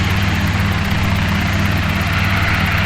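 A Guimbal Cabri G2 helicopter's engine and rotor run steadily at idle after the throttle is rolled back, a loud, continuous close-up drone with a rhythmic low beat and no voices.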